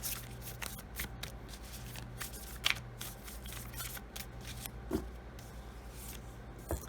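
A Sacred Traveler Oracle card deck being shuffled by hand, a steady run of close, crisp riffling and flicking with a few sharper snaps, under a low background hum.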